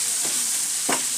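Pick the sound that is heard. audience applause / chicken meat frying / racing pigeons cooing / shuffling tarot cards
chicken meat frying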